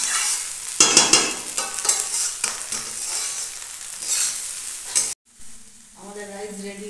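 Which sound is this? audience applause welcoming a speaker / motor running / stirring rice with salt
stirring rice with salt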